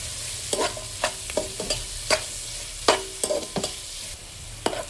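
Sliced onions with salt fry in a pan for fish biryani, a steady sizzle running beneath repeated sharp scrapes and clacks of a stirring spoon, close and moderately loud with no talking.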